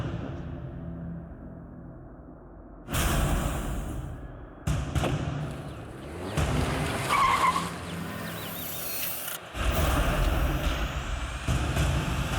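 A car speeds away with tyres skidding: after a quiet opening, several sharp screeching bursts of rubber on road come in bold, abrupt bursts, mixed with engine roar and ending in renewed squealing.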